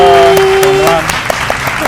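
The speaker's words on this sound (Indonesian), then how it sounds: "Mari kita tepuk tangan dulu untuk Kak Grizzly." Loud applause fills the clip, a steady wash of clapping with a sustained tone fading out in the first second.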